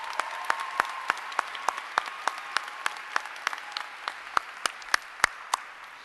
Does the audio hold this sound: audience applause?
yes